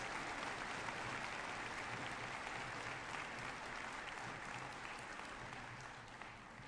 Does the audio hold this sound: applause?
yes